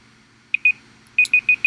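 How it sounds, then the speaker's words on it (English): Timer running out with a series of short, clear electronic beeps: two quick pips, a pause, then four more in a steady rhythm, loud against a quiet background. "And the timer ran out"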